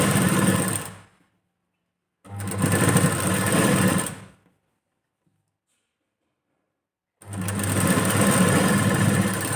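A sewing machine stitches the front yoke of a katori blouse in three loud close bursts of fast steady whirring, each separated by a pause of silence.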